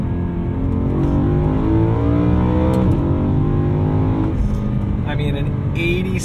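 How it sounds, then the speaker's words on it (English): A 2010 BMW E92 M3's tuned, high-revving 4-liter V8, with an 8600 RPM redline, screams steadily, its pitch climbing and dipping, with a person talking over the loud engine throughout. "8600 RPM redline out of this little 4-liter V8. It's just a screamer"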